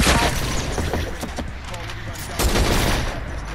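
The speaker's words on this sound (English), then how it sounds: "I'm going to try and have a heavy shot now with it." Heavy sniper fire in Fortnite, a burst of sharp loud shots and a second blast later, crackling over busy game noise with a voice talking.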